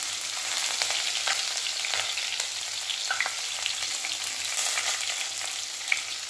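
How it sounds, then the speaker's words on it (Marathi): Cumin and mustard seeds with curry leaves fry in hot oil for sambar. The oil sizzles steadily and loudly throughout, with occasional small pops and crackles and no voices. "तेल गरम झालेलं आहे, त्याच्यामध्ये जिरे आणि मोहरी टाकूया"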